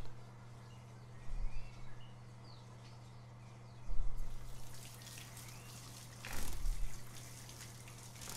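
Running water in the HITMAN 2 video game, a steady wash of flowing water with gentle swells in level, set against a faint ambient hum and occasional distant bird-like chirps.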